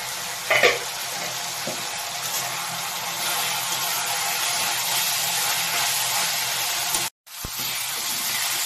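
Chopped banana flower fries in a pan with a steady, loud, close sizzle that goes on throughout, broken by a few faint clinks and a very brief drop in sound near the end.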